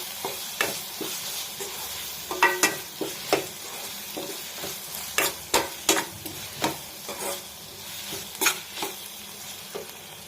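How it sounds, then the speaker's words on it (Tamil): Onions sautéing with ginger garlic paste in a pan, stirred with repeated scraping strokes in a loose rhythm over a soft continuous sizzle, close and clear with no voices. "வெங்காயம் வதங்கி வந்ததுக்கப்புறமா கொஞ்சம் இஞ்சி பூண்டு பேஸ்ட்டு சேர்த்து அதையும் நல்லா மிக்ஸ் பண்ணி வதக்கிக்கணும்"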